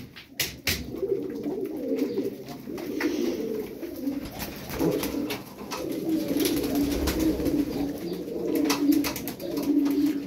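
Tumbler pigeons coo in repeated soft, throaty phrases, several birds overlapping close by, with occasional sharp clicks and wing flutters in between.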